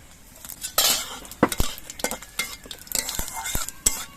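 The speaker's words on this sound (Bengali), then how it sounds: "সর্ষের তেলটা গরম হয়ে যাওয়ার পর এর মধ্যে দিয়ে দিচ্ছি দুটো তেজপাতা দুটো শুকনো লঙ্কা আর অল্প একটু গোটা জিরে" Bay leaves, dried chillies and whole cumin in hot mustard oil, a soft sizzle broken by repeated sharp clinks and scrapes of a utensil against the pan, close and irregular.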